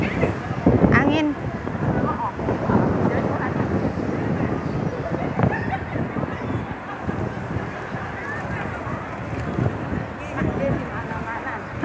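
Strong wind buffets a microphone outdoors on a causeway walk, giving a continuous rough low rumble with gusty surges under ongoing conversation.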